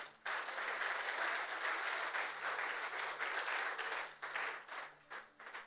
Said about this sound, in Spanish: Hermanos, dale ese aplauso al Señor.